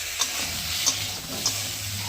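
Potatoes, broad beans and eggplant sautéing in a pan for a vegetarian curry, a continuous close sizzle broken by three light spatula scrapes.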